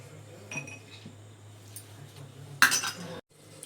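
A metal lid set onto a pan of brinjal curry cooked in yogurt, with a bright clattering clink near the end after a few quieter utensil taps, close by over a low steady hum.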